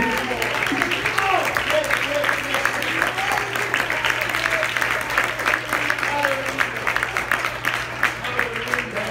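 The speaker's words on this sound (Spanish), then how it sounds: "Un aplauso al" Congregation at a church service applauding steadily and loudly throughout, a dense sustained clatter of many hands with a low steady hum underneath and some voices mixed in.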